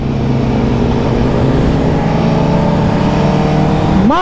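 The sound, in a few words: superbike engine revving during a wheelie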